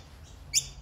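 A tiny baby bird that has fallen from its tree gives one short, high chirp, close by, over a quiet outdoor background.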